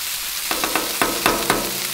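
Burgers fry on a Blackstone griddle with a steady, loud, broadband sizzle, broken by a few soft clicks and taps of a spatula.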